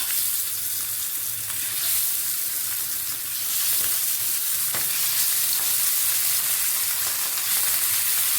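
Fish going into a hot frying pan for a Tamil fish curry, a loud, dense, continuous sizzle that swells further after a few seconds, with no one speaking.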